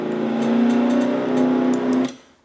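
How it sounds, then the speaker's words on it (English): A race car engine in a video game cranks and runs roughly for about two seconds, a steady droning hum, then cuts out abruptly and goes quiet. "And you hear Ann barely getting her car started."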